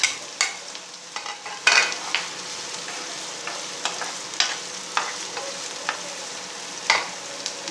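Onion and chilli frying in hot oil, a continuous sizzle broken by repeated scraping stirs at irregular intervals, close and fairly loud with no voices.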